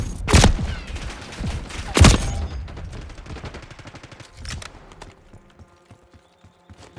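Gunfire in the Black Ops 6 game: two loud, close blasts followed by a rapid burst of shots that fades into scattered, fainter fire.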